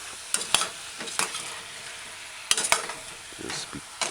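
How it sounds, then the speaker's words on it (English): A wooden spoon stirs a codfish, cauliflower and tomato stew in a pot, giving soft scraping strokes and clacks over a faint sizzle, close and unhurried. "Now use your wooden spoon and stir in ingredients"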